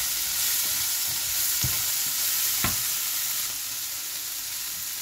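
Chickpeas sizzling and frying with chili flakes in a pan, a steady hiss with a couple of scraping stirs, close and constant throughout.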